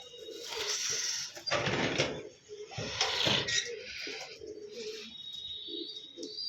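Pigeons in a loft coo softly in repeated low, throaty bursts, with chirps and rustling around them and a voice talking faintly at times.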